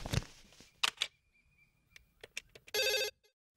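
A landline telephone rings in a film scene, a short electronic bell burst among scattered clicks and soft handling noises, otherwise quiet.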